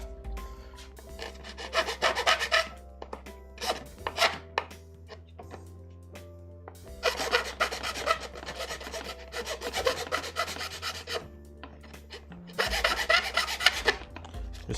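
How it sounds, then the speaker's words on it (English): A Black & Decker mouse sander grinds against a 3D printed part in bursts of harsh, buzzing rasping, pausing between passes over a steady motor hum, close and loud with no talk. "Of course it's noisy. It's a Black & Decker mouse."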